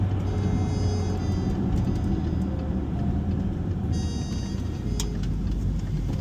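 A car driving on new tires gives a steady, muffled rolling hum and road rumble from inside the cabin, continuous and fairly quiet, with no voices.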